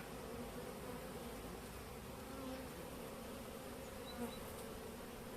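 Honeybees in a weak colony's hive during overwintering, a dense, continuous buzzing drone close by, steady in level with no talk.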